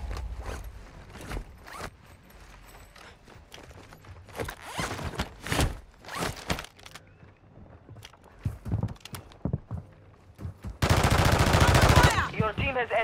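Call of Duty: Warzone gunfire: scattered loud shots and short bursts among mechanical clicks and rattles, ending in a dense sustained volley of rapid fire.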